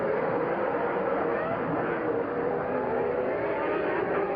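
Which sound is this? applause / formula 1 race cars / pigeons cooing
formula 1 race cars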